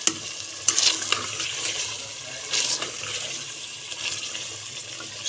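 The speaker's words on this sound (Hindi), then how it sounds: "अब हम इसको मिक्स कर लेंगे।" Chicken curry with chili flakes and mongray being stirred and mixed in a frying pan; wet scraping and sizzling with a few sharp clinks of the spoon against the pan, close and continuous, with no talking.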